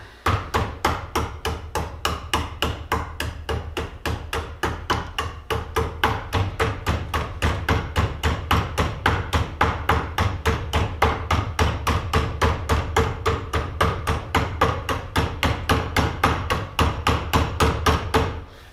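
A beaver-tooth carving tool strikes bog birch, a moderately hard wood, in a rapid, even run of close knocks that carries on steadily without talk.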